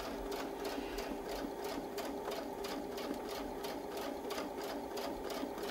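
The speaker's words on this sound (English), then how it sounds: "we're just going to sew around the heart" A sewing machine stitches steadily around a heart-shaped quilting template, its needle running in a fast, even, continuous rhythm close to the microphone with no pauses.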